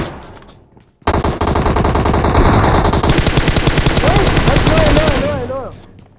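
Rapid, loud bursts of gunfire from a shotgun battle in the mobile game PUBG Mobile, with dense repeated shots filling about four seconds before fading out.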